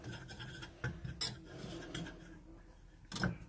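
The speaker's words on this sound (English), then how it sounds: "And then we're going to stir this up, okay? Mix everything to combine." Utensil stirring flour into a crab mac and cheese sauce in a pan, soft scraping and clinks against the cookware, close but quiet, with a couple of sharper knocks.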